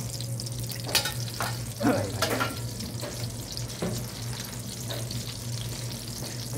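Rice frying in a pan, a steady sizzle with a few scraping stirs of a utensil, fairly quiet over a constant low hum.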